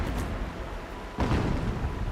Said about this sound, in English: Explosions in the distance. Pay that no mind.